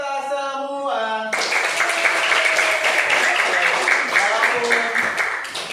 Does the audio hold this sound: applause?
yes